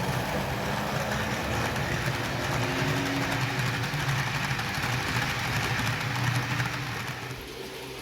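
A V200 series diesel locomotive runs on a model railway layout, giving a steady, even motor whir and rumble that holds throughout and eases off slightly near the end.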